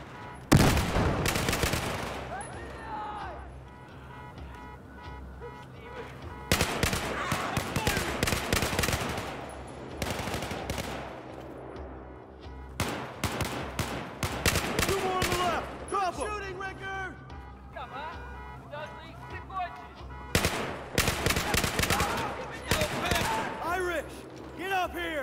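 Bursts of automatic gunfire and explosions during a Battlefield 4 combat mission set in Baku, loud and repeated in several volleys with a voice talking in between.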